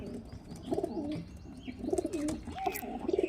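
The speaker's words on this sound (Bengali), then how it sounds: "দুটো পায়রাই কিন্তু রামপুরি ভাঙানো পায়রা" Rampuri crossbred pigeons, a male and a female, give soft repeated rolling coos close by, several short phrases in a row with quiet gaps between.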